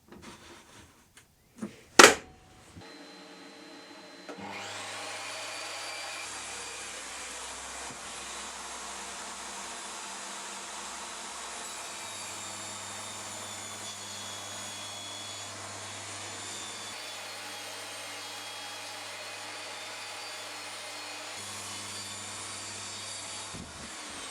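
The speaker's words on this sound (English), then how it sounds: "So I'm going to get the fence set and a piece ripped down on the table saw." Table saw ripping a piece of wood along the fence in a workshop: a sharp click and thump, then the motor spins up to a loud steady whine, with the blade's pitch dipping and recovering as the cut proceeds.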